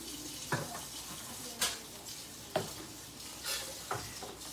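Onions frying in a pan on a stovetop burner for a red vegetable soup, a steady soft sizzle broken by several sharp stirring scrapes spaced about a second apart, close by with no talking.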